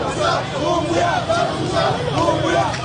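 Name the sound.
jubilant crowd welcoming a delegation in Touba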